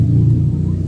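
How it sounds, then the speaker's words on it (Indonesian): A motorcycle goes past close by: a loud, steady low engine rumble that eases off slightly over one second, with no voices. "Nah itu ada motor ya teman-teman."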